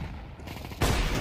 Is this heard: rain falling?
no